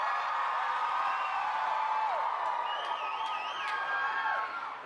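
A huge festival crowd of hundreds of thousands screams and cheers for the Beatles taking the stage, a dense, continuous roar with shrill whoops rising above it throughout.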